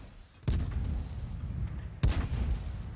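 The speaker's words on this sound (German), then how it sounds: "Ich kann ihm halt einfach easy so 2 Schüsse reinklatschen." Two loud tank cannon shots in the video game World of Tanks, about a second and a half apart, each a sharp boom that tails into a rumbling decay, with no speech over them.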